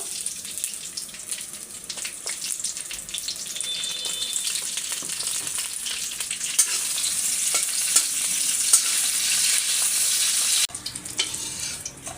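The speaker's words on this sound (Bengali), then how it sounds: "এখন হচ্ছে কাঁচামরিচ আর শুকনো মরিচটা ভেজে নেব" Green and dried chillies frying in a pan for a spicy mash give a loud, continuous close-up sizzle with scattered crackles. It swells toward the end, then dips briefly.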